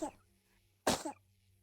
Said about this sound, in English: the baby noises that I'm hearing are like if they're coughing